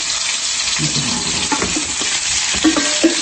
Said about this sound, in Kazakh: Ыстық тұрған майға баклажанды қуырып аламыз осылай.